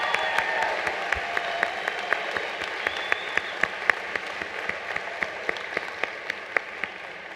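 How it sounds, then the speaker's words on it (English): A commencement crowd applauds graduating students in a large hall, a dense steady wash of clapping with distinct rhythmic individual claps standing out, moderately loud and continuous throughout. "Please recognize these students with your applause."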